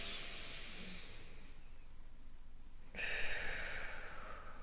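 A slow, deep breath drawn in and let out during a guided meditation: soft airy hiss that fades, then a stronger, louder exhale or inhale rushing in near the microphone, with no talking.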